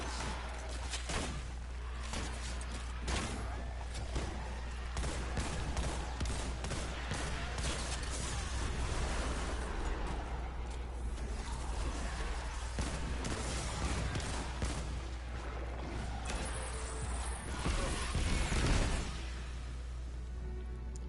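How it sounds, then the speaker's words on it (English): Repeated hand cannon shots in Destiny 2 Forsaken's Gambit mode, from a weapon fitted with Outlaw and Hipfire Grip. The reports are dense and sustained across the whole stretch, mixed with game effects, and a sharper burst comes near the end. "so this is the Gambit hand cannon, by the way. This one has Outlaw and Hipfire Grip."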